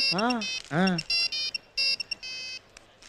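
A mobile phone rings for an incoming call, a short melodic ringtone of rising and falling tones followed by repeated electronic beeps, close and clear, with voices briefly present.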